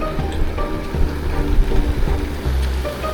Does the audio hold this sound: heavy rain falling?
yes